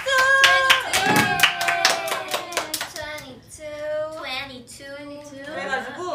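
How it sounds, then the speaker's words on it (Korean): A few young women clap together in a quick burst of sharp, close claps during a casual group livestream, then their lively talking and laughter take over. "박수!"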